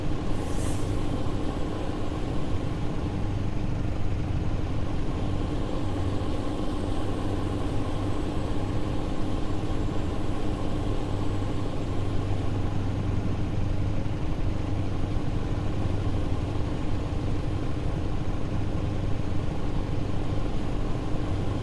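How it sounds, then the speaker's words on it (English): A truck engine sound stuck in a loop in the Euro Truck Simulator 2 video game: a steady, unchanging mid-pitched engine drone that holds at the same level throughout, with no talk. "sounds like this bloody engine sound's got stuck again"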